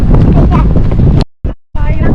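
Strong wind buffets the microphone at the Pantabangan view deck near Pantabangan Dam, roaring loudly in gusts that cut off abruptly. Someone speaks over it.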